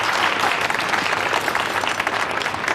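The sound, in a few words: audience applause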